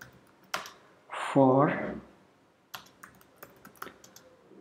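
Someone types Python code on a computer keyboard, a few close key clicks around a short spoken word, then more scattered taps.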